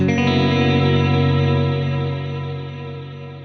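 A heavily effected electric guitar chord through a Fender Tone3 amp rings out thick and shimmering with distortion and chorus, slowly decaying.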